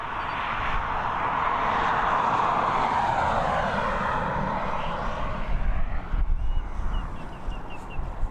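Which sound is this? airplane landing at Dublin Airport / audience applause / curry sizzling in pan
airplane landing at Dublin Airport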